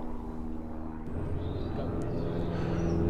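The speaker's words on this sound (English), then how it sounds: "I do apologise if you can hear an aeroplane flying over" A propeller aeroplane drones steadily overhead, a broad low rumble that swells slightly as it passes, heard outdoors on a calm day at an airgun range.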